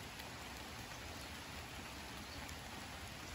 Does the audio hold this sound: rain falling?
yes